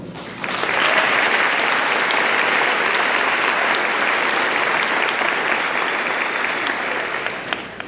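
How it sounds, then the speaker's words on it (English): A large audience at the Liberty High School Class of 2024 graduation bursts into sustained applause, a loud, dense roar of clapping that swells in quickly, holds steady for several seconds and eases off slightly at the end. "Let's give them a round of applause."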